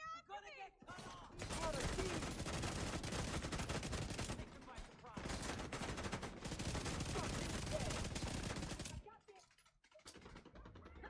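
Pistol gunfire in The Division 2, a fast, dense barrage of shots lasting several seconds with a brief pause midway, loud and continuous before tapering off into quieter game noise.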